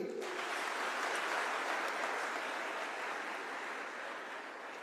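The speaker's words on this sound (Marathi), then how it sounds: "एकदा जोरदार टाळ्या होत्या ताईसाठी" A large audience at a motivational talk claps for a woman, a dense continuous wash of applause that holds steady and then fades slightly over about five seconds.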